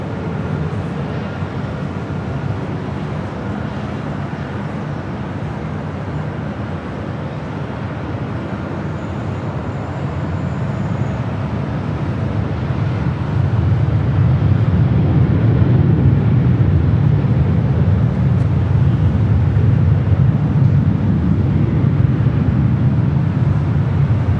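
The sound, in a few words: Southwest airliner taking off from runway 24 left at LAX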